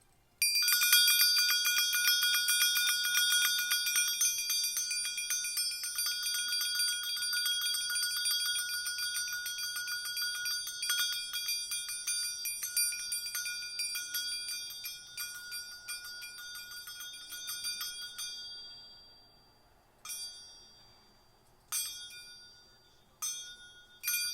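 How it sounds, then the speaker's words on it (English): A cluster of small bright bells rings in a continuous loud jangle for most of the time, fading out and then returning as a few separate short strikes near the end. "I'm gonna ring the bells real quick"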